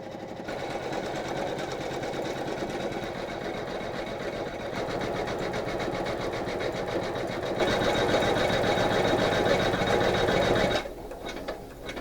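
A beginner's embroidery machine stitching out a unicorn patch runs with a fast, steady mechanical whir and needle clatter close by, growing slightly louder near the end before easing off.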